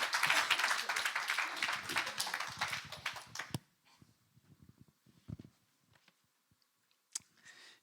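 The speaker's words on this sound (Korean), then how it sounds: "세계적인 설교자 강태영 목사님 모셨으면 나오실 때 박수" Church congregation applauds as a preacher enters, a loud burst of clapping for about three and a half seconds that stops abruptly, followed by near silence with scattered faint taps and rustles.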